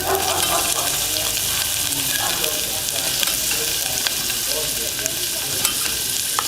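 Onions hit hot oil for vegan black bean tacos, producing a loud, steady hiss of frying that holds without pause, with occasional faint scrapes and clicks close at hand.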